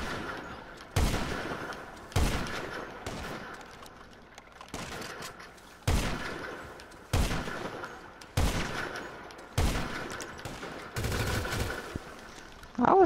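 Bursts of AK rifle fire in GTA 5 Online, about eight sharp volleys spaced roughly a second apart, each a loud crack with a quick decay. No one talks.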